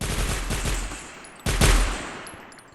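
Rapid bursts of gunfire from a gun in Minecraft, a loud automatic rattle that drops off, then a second heavy volley starting midway, with no talk over it.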